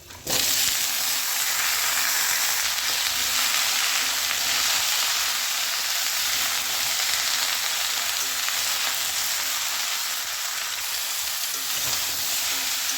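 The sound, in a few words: vegetables with curry leaves sautéing in a pan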